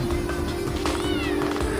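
A mother cat cries out with repeated drawn-out meows beside a concrete apartment entrance, her kitten trapped nearby; the calls are loud and close over a steady low hum.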